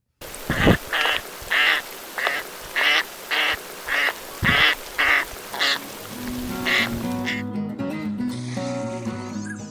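Northern pintail ducks in winter wheat habitat, quacking in a regular series of about ten loud, close calls, then giving way to other sounds near the end.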